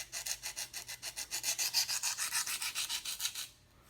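A knife edge is drawn across a stone on a KME sharpening system, giving a rapid series of about twenty rhythmic scraping strokes, close and fairly faint, ending abruptly.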